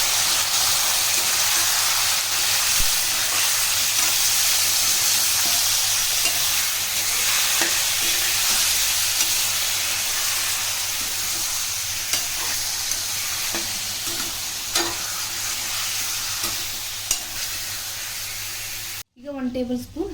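Chicken pieces sizzle loudly in hot masala in a pan while being stirred, a steady close frying hiss with scattered scraping and spoon knocks running throughout before cutting off abruptly at the end.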